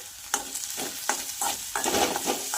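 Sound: frying spice powders for moong dal and wheat flour matri

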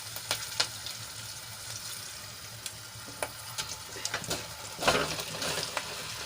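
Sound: bottle gourd muthiya added to hot oil tempering, sizzling

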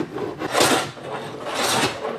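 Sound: hand saw cutting wood

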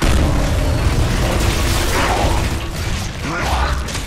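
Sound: frag grenade explosion in a video game

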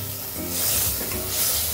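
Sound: garlic frying in pan

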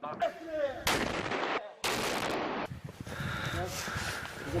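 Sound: gunfire and artillery fire at a war front

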